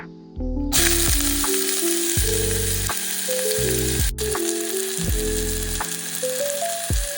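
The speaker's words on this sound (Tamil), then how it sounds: "இதுக்குள்ள வெட்டி வச்சிருக்கிற வெங்காயம் போடுறேன்." Chopped onions dropped into hot oil in a pan, setting off a sudden loud, continuous sizzle that carries on throughout over a background of steady tonal music.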